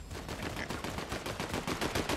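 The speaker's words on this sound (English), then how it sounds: "I hear gunfire." Rapid bursts of gunfire in the Fortnite video game, a dense string of sharp shots crackling steadily for a couple of seconds at moderate loudness with no talk over them.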